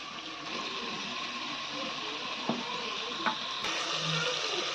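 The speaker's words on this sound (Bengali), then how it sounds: "এখন মাংসগুলো দিয়ে দেব।" Chicken pieces for soup cook in a pot with a low, steady sizzle and bubbling, broken by a few soft clinks, fairly close and without talk.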